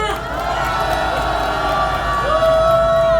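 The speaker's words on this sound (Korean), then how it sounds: "강북구 의원에게 다시 한번 큰 박수 부탁드립니다" A huge crowd at a 2016 candlelight impeachment rally in a Korean public square cheers and shouts together in sustained, tonal voices, loud and close, swelling slightly toward the end.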